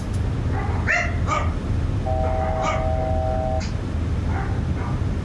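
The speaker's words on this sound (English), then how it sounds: "I wish these dogs would be quiet." Several dogs in the back of a small aircraft yip and bark in scattered bursts over the steady drone of the engine, with a brief tone sounding partway through.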